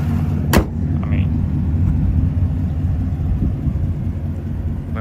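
A 2016-or-newer Chevrolet Camaro with a new carbon fiber steering wheel is driven out for a spin, giving a loud, steady low road rumble and engine drone close by, with a brief sharp knock near the start.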